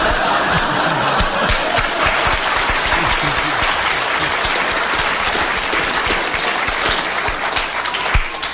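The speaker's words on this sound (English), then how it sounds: "You have received your round of applause." Studio audience at a radio panel game breaks into steady, dense applause that fills the room for several seconds, with a few scattered laughs and faint voices mixed in.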